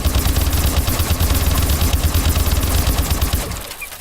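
Rapid automatic gunfire from the Ohm weapon in Call of Duty Advanced Warfare, a dense, loud, continuous burst of shots that cuts off sharply near the end, leaving a faint tail.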